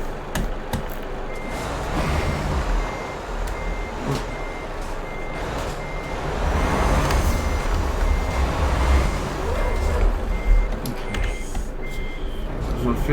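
Truck reversing beeps sound in a steady repeating pattern in Euro Truck Simulator 2, over a low engine rumble, with occasional speech mixed in.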